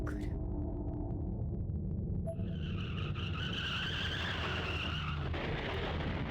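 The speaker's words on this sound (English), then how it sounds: "Another car crash?" Car skidding with a long tire squeal in the horror game Corpse Party: Blood Drive, loud and continuous for several seconds over a low rumbling engine, ending in a crash-like burst.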